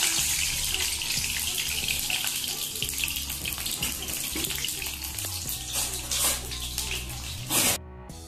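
Garlic hits hot oil in a kadai for patwa bhaji, giving a loud, continuous broadband sizzle close by that holds steady for several seconds before briefly cutting off near the end, with no talk.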